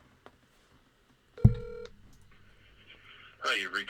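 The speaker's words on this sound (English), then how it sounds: "Let's leave Tony a voicemail" Telephone keypad tones sound while a voicemail call is placed: a faint click, then a short run of dialing beeps, a low tone lingering after, and a voice starting at the end.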